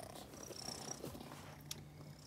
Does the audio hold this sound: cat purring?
yes